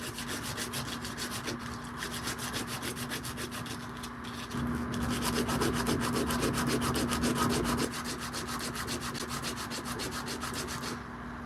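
A ring is rubbed flat against sandpaper in rapid, even back-and-forth strokes, a close, soft, steady scratching that runs throughout with a slightly louder stretch midway and no speech.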